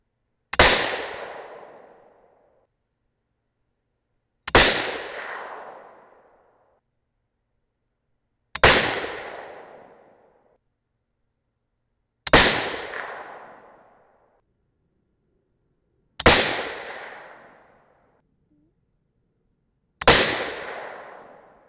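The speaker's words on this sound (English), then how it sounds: "Same thing that time, hang fire. Another hang fire." .308 Winchester rifle cartridges fire six times in turn, each a sharp, loud report with a decaying ring-out, spaced about four seconds apart, alone and without talk; some rounds are hang fires.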